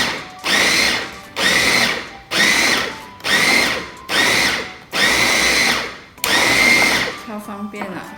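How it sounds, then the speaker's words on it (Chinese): A food processor on speed 2 mincing chicken breast whirs in seven loud pulsed bursts of about a second each with short gaps, then a few quieter clunks. "鸡肉呢，我们放2度搅拌"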